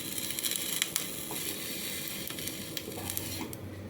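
A mixer grinder whirs and rattles continuously as it grinds three fried chillies, a dense, steady mechanical roar close by with no pauses or voices.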